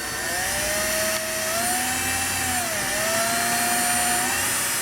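Hand drill boring into bone to make a flute whistle, a steady close whirring drone with a slowly wavering tone that runs unbroken for about five seconds.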